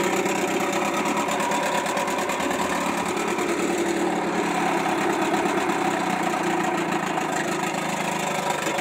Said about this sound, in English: You can hear how low this thing idles down.